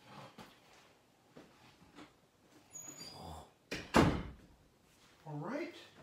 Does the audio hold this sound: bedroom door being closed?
yes